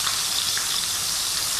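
Battered squash blossoms deep frying in a generous amount of oil, giving a steady, close hiss of bubbling fat that continues without pause throughout.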